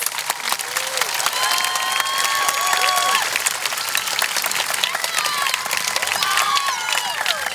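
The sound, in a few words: round of applause at high school graduation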